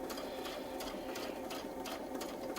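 A sewing machine stitching fabric along a template line, its steady rapid needle chatter running continuously with soft periodic clicks, fairly quiet and close, with no voices.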